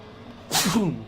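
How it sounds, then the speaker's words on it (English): A single sharp sneeze bursts out close by, with a short voiced tail as it fades. "Excuse me, I had to sneeze."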